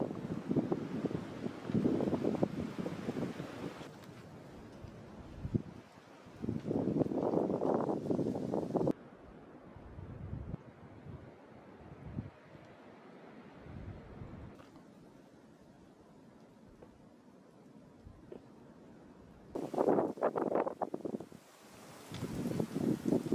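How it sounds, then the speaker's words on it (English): Wind blows over a snow-covered Korean mountain peak on Jirisan, coming in strong buffeting gusts that break up long quieter stretches of faint rustling. "we are greeted by the crisp sound of the wind and a serene world blanketed entirely"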